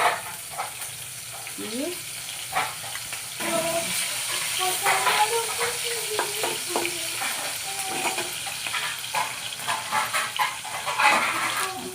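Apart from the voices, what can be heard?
red chili frying in oil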